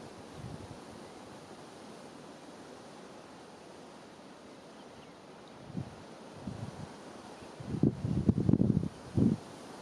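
Wind blowing across open country on an African wildlife safari: a low, steady rushing hiss that swells into louder gusts and buffeting bursts near the end, with no voices.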